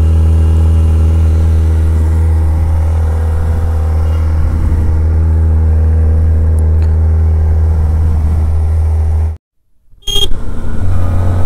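A Kawasaki Ninja ZX-4RR inline-four motorcycle engine hums at a steady, loud idle close by, cuts out abruptly near the end, then fires back up with a short burst; no voices.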